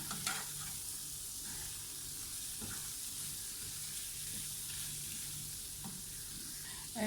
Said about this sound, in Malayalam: ഇനി ഇതിലേക്ക് നമ്മൾ വറുത്ത് വെച്ചിട്ടുള്ള നമ്മുടെ മീൻ ഇട്ട് കൊടുക്കാം. ഇതെല്ലാം കൂടി നന്നായി ഒന്ന് മിക്സ് ചെയ്തെടുക്കണം.